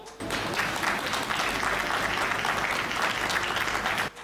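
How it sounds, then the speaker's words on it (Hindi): An audience bursts into strong, sustained applause, a dense and even roar of clapping hands that starts suddenly, holds steady for about four seconds, then stops abruptly. "मैं चाहता हूं उनके सम्मान में जोरदार तालियां हो।"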